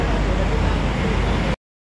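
Bus pulling out of Terminal Tidar in Magelang, a Sumber Waras Putra economy AC coach bound for Yogyakarta, giving a steady broadband engine and road rumble that cuts off abruptly.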